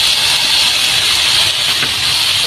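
Loud, continuous hissing sizzle as bungkalanang hits a hot pan with aromatics for adobo, steady and close with no talk.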